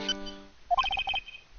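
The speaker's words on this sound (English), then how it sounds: "Sorry, that's my phone." A phone ringtone in the Phoenix Wright: Ace Attorney video game, a short bright electronic chirping melody of quick repeated notes following a brief tone, heard alone.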